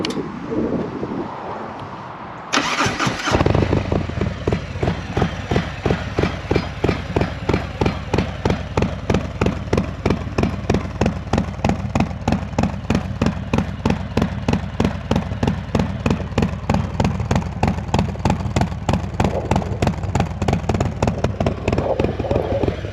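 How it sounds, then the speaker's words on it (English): After a moment of quiet rumble, a Harley motorcycle engine with an S&S 475c cam and Vance & Hines Power Duals exhaust catches and settles into a loud, lumpy idle with a steady, rapid thumping beat, close by. "let's start the bike up so you guys can hear this thing"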